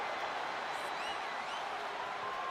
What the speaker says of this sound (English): And do you hear this capacity crowd? They want more from Stone Cold.